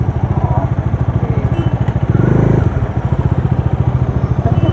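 Motorcycle engine while riding toward Kirtipur, with a loud, steady pulsing throb throughout and a brief swell in revs midway.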